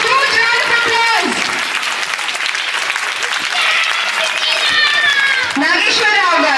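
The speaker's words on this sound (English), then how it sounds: "Can we have a huge, huge round of applause?" Audience applause at a temple festival celebration, a sustained loud round of clapping and crowd noise lasting several seconds, with a voice speaking over parts of it.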